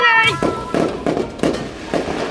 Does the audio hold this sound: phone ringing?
no